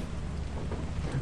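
Steady rain with a low thunder rumble in a video game, a constant dense wash of noise heard alone throughout.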